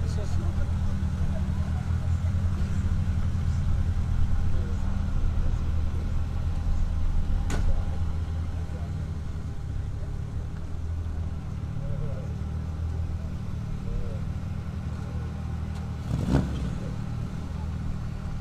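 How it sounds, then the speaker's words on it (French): A 1992 Citroën Saxo VTS engine runs steadily through a long stretch of driving, with a constant low drone and faint crowd ambience around it at a night car event. "Derrière, on retrouve une Saxo, c'est une VTS de 1992, la voiture de Stefano Grizzeri."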